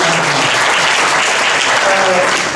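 Steady applause from an audience honouring a speaker named Mas Bambang at a literature and tolerance event, dense clapping sustained for the full stretch with faint voices beneath.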